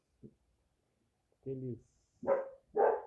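A dog barks four times, the first short and faint, then three louder, separate barks spaced about half a second apart in an otherwise quiet room with no talk.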